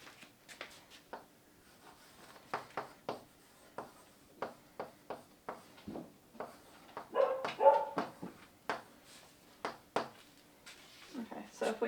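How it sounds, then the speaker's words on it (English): A pet dog barks and yips in repeated short, sharp bursts at an irregular steady pace. The barks are moderately near, and a person talks intermittently between them. "Sorry about the dog."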